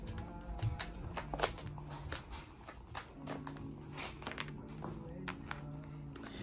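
Tarot cards are shuffled by hand in a quiet room, making soft, irregular riffling taps and flicks close by. No talk is heard.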